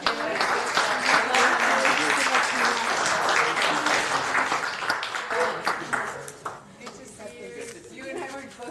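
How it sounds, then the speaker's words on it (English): Applause at a city council regular meeting, a steady spread of many hands clapping that runs for several seconds, then thins and fades as scattered voices take over. "Let's give him a round of applause."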